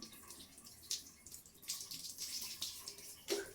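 Water poured over hair during a hair wash, a soft splashing trickle with a few brief louder splashes, close by and with no talking.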